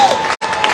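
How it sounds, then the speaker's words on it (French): Spectators in the south stands applauding as Ultim racing sailboats leave through the Naye lock at Saint-Malo. The clapping and crowd noise are loud and dense, with a brief cut in the middle. "applaudissements avec les gradins côté sud."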